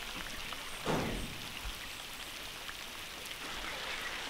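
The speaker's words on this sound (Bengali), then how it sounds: "সকাল সকাল কি সুন্দর বৃষ্টি শুরু হয়েছে" Morning rain patters down steadily in a soft, continuous wash, with a brief louder burst near the start and no talking.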